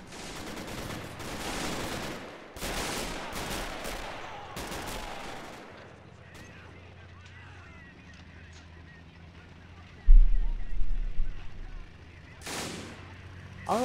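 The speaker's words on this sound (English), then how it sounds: "Oh, who the hell just fired that?" Gunfire in Arma 2 Normandy '44, several loud sharp shots and bursts in the first half, then a quieter stretch with a low engine hum, a heavy thump near the end and one more shot.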